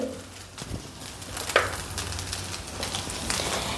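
Vegetable fried rice is tossed in a hot pan, making a low, continuous sizzle broken by a few soft scraping clatters.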